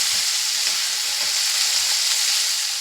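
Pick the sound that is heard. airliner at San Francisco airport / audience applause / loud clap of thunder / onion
onion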